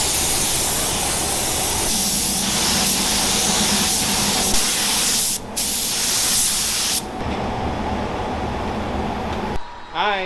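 Chemical Guys stain remover hisses from a spray bottle onto a car's rubber trims in several loud, close bursts of broadband spraying, with brief pauses between squirts.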